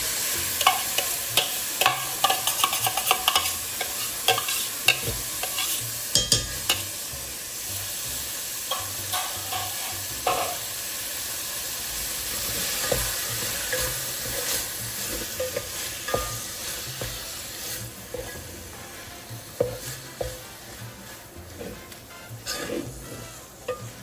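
Beef mince sizzles and fries in a pan with roasted masala while a spoon stirs it, giving a steady close hiss broken by repeated sharp scrapes and clinks against the pan.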